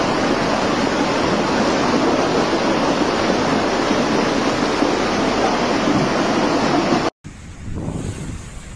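Floodwater rushing through flooded streets after torrential rain in Italy, a loud steady roar of churning water that cuts out abruptly near the end, followed by a softer rush.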